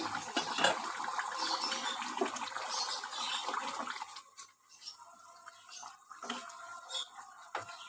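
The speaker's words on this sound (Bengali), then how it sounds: "ঝোল আমার ফুটে এসছে।" A pot of curry gravy simmers and bubbles with a steady watery, gurgling wash that is fuller at first, then drops to quieter intermittent bubbling and drips.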